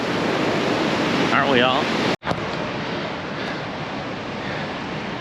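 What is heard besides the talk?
ocean surf waves and wind at Panama City Beach, Gulf of Mexico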